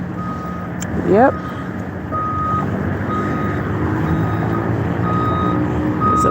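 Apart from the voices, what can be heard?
bus reversing with backup beeps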